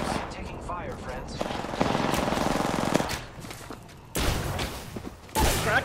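Gunfire in the video game Apex Legends comes in rapid bursts and single cracks, with a sustained volley in the middle and sharp shots near the end, while players talk over it.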